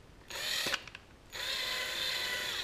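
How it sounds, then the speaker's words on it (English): A cordless drill spins the screw of a Lenco trim tab actuator on a boat, a whirring mechanical run that stops briefly, then starts again and continues steadily. "Grab a cordless drill,"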